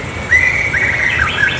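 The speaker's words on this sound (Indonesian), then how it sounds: "alarm mundurnya alarm burung ini, teman-teman, suara burung." A new intercity bus at a terminal in Purwodadi, Indonesia, runs a reversing alarm that sounds like a bird, giving a clear, steady chirping warble that rises and falls and repeats continuously, with low engine rumble underneath.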